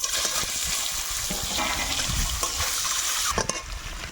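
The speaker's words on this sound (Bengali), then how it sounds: "ডিম ভাজা হচ্ছে" A duck egg fries in hot oil with a pinch of turmeric, giving a steady, close, broadband sizzle that stays loud and even throughout, with a few brief pops and crackles.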